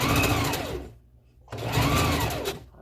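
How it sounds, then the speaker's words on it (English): A sewing machine stitches hair pieces around a wig closure in two loud close whirring runs. A brief pause separates them. "then I'm going to sew the last 2 pieces around the closure"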